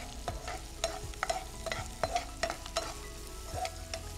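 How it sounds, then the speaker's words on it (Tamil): Onions sizzle steadily in a hot pan while a spoon scrapes and stirs in repeated clinking strokes, close up with no talking. "வெங்காயம் நல்லா மிக்ஸ் பண்ணணும்."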